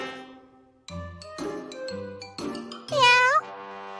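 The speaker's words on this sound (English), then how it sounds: "Meow!" A cartoonish cat voice meows in BlazBlue: Chronophantasma Extend, several short tonal cries with a rising, wavering call near the end, set against bright chiming game music.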